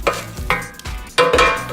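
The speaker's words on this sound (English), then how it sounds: "you want to stir it so it could cook evenly" French fries being stirred in an air fryer basket, with a few loud, close rustling and scraping bursts of the crispy fries shifting against the metal over a couple of seconds.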